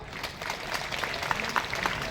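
An audience at a community stage event claps for the organisers, a steady, moderately faint patter of many hands throughout.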